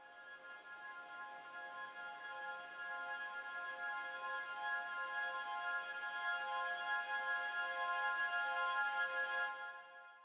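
Long, sustained ringing tones with layered harmonics swell slowly and hold, an eerie stretched-out squeal made by time-stretching squeaks, fading near the end.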